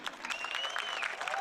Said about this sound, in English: please join me in giving me a warm round of applause to our MPHS seniors